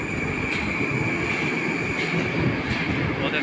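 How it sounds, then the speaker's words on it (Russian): A Moscow metro train on the Big Circle Line rumbles steadily past at a station, with a continuous broadband roar, faint high wheel squeal and a few clicking rail joints. "Вот это красиво было, это наш поезд."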